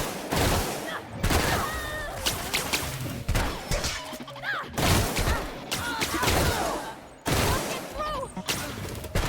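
Gunfire crackles in the video game The Outer Worlds, where a pistol fires in loud sharp bursts amid crashing impacts, with a voice briefly speaking over the chaotic fight.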